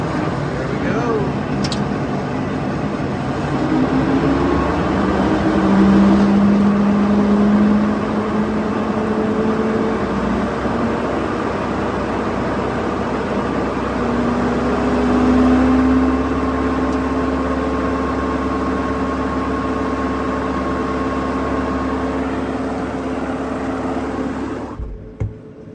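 A 2023 New Holland T5.120 tractor powers up its brush hog, a steady mid-pitched engine drone with rising whining tones held at close range for most of the stretch, then cutting off abruptly near the end; a voice speaks over it.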